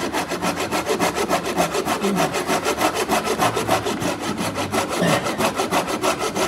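A hand saw cuts a kerf into wood on a stump while an axe is being hung, producing steady, rapid back-and-forth rasping strokes that are close and loud throughout.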